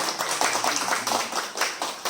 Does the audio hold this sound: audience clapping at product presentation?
yes